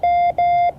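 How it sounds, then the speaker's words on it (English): Morse code for the number 3 sounded as a loud, pure electronic tone, with two long, steady dahs separated by a short gap and no voices. "that is the sound of a 3."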